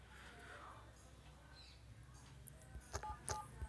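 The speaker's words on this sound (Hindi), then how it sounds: "अब यहाँ पर डायल करें" A mobile phone keypad sounds short dialing beeps while a call-forwarding code is entered. A few quick, faint tones cluster near the end over a soft, noisy background.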